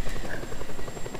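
A helicopter in the video game Just Cause 2 throbs with steady rapid rotor chopping and a buzzing drone, loud and close, heard alone.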